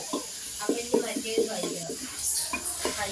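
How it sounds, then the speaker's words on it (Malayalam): Spices sizzle in hot oil as a spoon stirs them, giving soft scraping strokes in a steady rhythm against a faint frying hiss. "നമുക്ക് നന്നായി ഇളക്കി ആ എണ്ണയിൽ നല്ലവണ്ണം മൂപ്പിച്ചെടുക്കുക"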